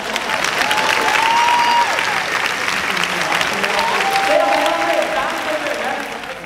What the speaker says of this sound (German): ihr könntet auch mal kurz klatschen für die Bühnenkoordination.